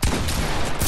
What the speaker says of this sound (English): I'm shooting at Freddy.